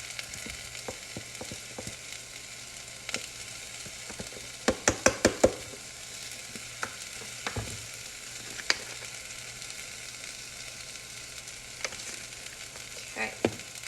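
Cumin and turmeric seasoning is stirred in a pot, a quiet sizzle under a cluster of quick spoon scrapes and taps against the metal, with no talking.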